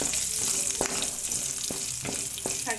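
Cloves and marathi moggu lightly roasting in a pan, giving a soft continuous sizzle with a few sharp clicks and scrapes of stirring spread across the moment.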